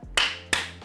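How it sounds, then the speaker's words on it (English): Two sharp hand claps in a gym, close and loud, spaced about a third of a second apart, with no talking. "2 claps."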